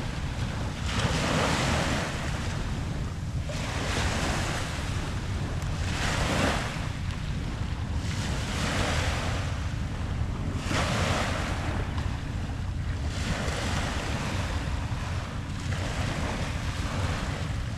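Waves lapping on the Long Island Sound shore with the tide coming in, steady surf washing in rhythmic swells every couple of seconds under constant wind noise, no voices.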